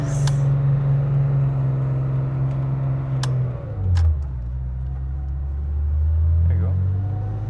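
A 1970 Porsche 911T engine drones steadily from inside the car while driving, dropping in pitch at a gear change midway and then climbing again, with faint voices in the cabin.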